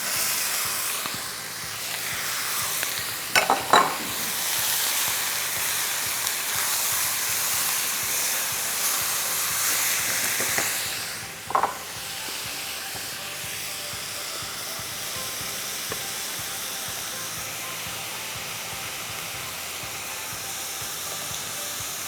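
Tomatoes fry in hot oil with a broad, steady hiss throughout, broken by two brief louder bursts early and near the middle, with no voices.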